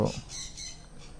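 Pet conures and lovebirds give a few short, harsh squawks in quick succession, fairly faint and close, in a short burst.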